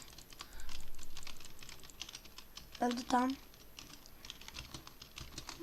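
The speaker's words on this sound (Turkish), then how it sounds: "Mekanik klavye gibi ses çıkıyor benim klavyeden de." Computer keyboard typing that sounds like a mechanical keyboard during a Counter-Strike 1.6 session, a rapid patter of clicks throughout with a brief spoken remark over it.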